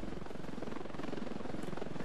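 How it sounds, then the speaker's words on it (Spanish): Helicopter in the video game Ravenfield, a steady rotor thump and engine drone holding throughout with no talk, fairly loud and continuous. "Escucho un helicóptero."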